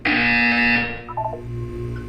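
A single loud electronic buzzer from the video game Portal sounds for under a second, a harsh sustained tone that cuts off into quieter game ambience with a faint chirp.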